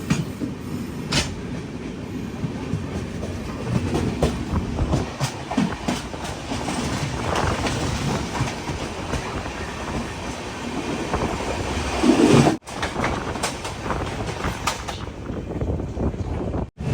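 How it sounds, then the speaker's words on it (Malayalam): An express train arriving at Roha railway station rumbles past close by with steady clickety-clack of wheels on rails, loud and continuous, a brief squeal of metal near the end. "ഇവിടുന്ന് ഒരു ട്രെയിൻ വരുന്നുണ്ട്, ചണ്ഡീഗഡ് കൊച്ചുവേളി സമ്പർക്രാന്തി എക്സ്പ്രസ്"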